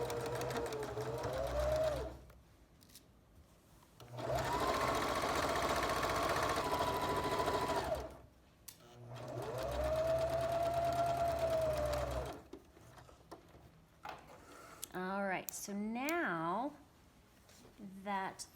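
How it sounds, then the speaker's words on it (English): A sewing machine runs in three sustained bursts as it restitches a pillowcase seam during a kids' sewing class, whirring loudly and evenly with short pauses between runs, followed by brief handling clicks and rustling. "So I'm gonna sew again right on that same seam line."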